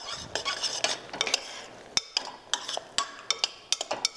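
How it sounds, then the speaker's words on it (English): A spoon stirs cranberries into cooking apples in a pan, giving a run of quick, sharp clicks and knocks against the pan, denser at first and then spaced into crisp individual taps. "Stir it up."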